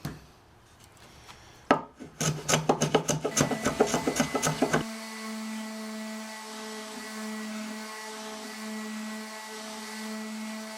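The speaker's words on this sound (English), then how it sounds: "I'm going to hit it with my smoothing plane, a couple strokes on each side" A smoothing plane rasps along wood in a quick series of rhythmic strokes, then stops, leaving a steady machine hum behind.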